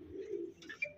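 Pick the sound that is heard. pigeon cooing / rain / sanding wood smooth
pigeon cooing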